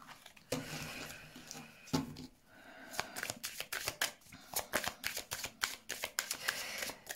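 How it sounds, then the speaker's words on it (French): Tarot or oracle cards are shuffled and handled close by in a card reading, producing a dense, fluttering run of papery slaps and riffles that grows busier toward the end. "Je vais monter un peu les cartes,"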